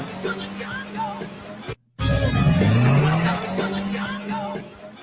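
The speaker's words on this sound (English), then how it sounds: "you can hear that engine" An off-road vehicle engine revs and roars up in pitch, its rising whine building loudly mid-clip before easing off, with a brief cut to silence beforehand.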